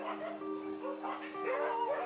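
Dogs at an animal shelter in Myanmar yip and bark in short, overlapping calls and whines, fairly close and steady for about two seconds with a busy background.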